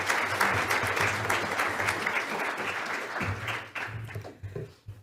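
Warm audience applause at an energy forum session as a speaker walks on stage, dense steady clapping with a low hum underneath that thins and fades out near the end.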